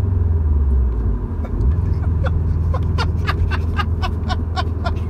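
A car engine drones with a low, steady rumble from inside the cabin after a shift into fourth gear. Brief bright clicks and ticks sound over the hum toward the end, and no one speaks.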